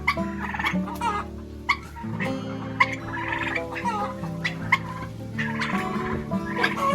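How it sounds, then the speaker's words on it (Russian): Several turkeys gobble close by outdoors, with layered warbling calls and occasional sharp clucks, over steady background noise. "Выпустила индюков, чтобы они немножко погуляли на улице."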